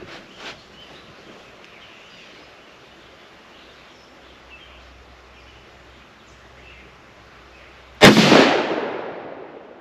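A single sharp rifle shot cracks out near the end, fired from a rifle fitted with a UUQ VibeShield 3-9x40 scope, its loud report decaying into a brief echo after quiet outdoor ambience.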